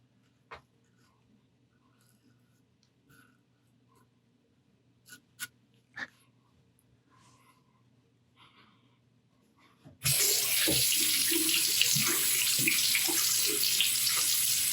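A bathroom tap is switched on to rinse shaving cream during a wet shave, running water gushing loud and steady after a stretch of quiet handling noises.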